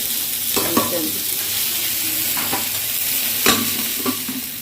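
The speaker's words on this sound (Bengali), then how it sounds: "মাটনটা একবার নাড়াচাড়া করে দিই এটাকে একবার করে নাড়াচাড়া করতে হবে" Mutton curry being stirred in a cooking pan: several scraping strokes of a spoon over a constant loud sizzle, close by, with no talking.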